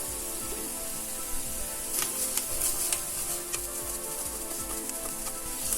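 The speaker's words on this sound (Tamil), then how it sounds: "நல்லா அந்த இஞ்சி பூண்டு ஸ்மெல் போகிற வரைக்கும் நம்ம வதக்கிக்கலாம்." Ginger garlic paste sizzling and frying in a pan after onions have softened, a steady close crackle with brief sharper spits and stirring scrapes, no talking.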